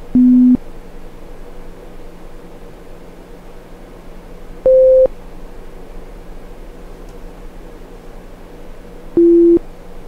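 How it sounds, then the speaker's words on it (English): Three short electronic test tones play one at a time, several seconds apart: a low, a middle and a high pitch, each a clean brief beep over a faint steady hiss. "now you have an idea for the low, middle, and high tones"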